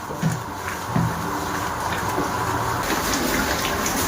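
Lemon water pours steadily into a pot of white korma, a continuous splashing gush with a few brief knocks near the start.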